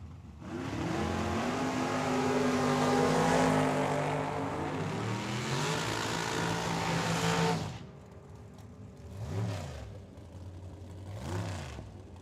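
Drag race cars, a Ford Thunderbird and a Ford Mustang, roar down Tucson Dragway in a loud, sustained run. The engines then fade away, and two softer, distant engine swells follow.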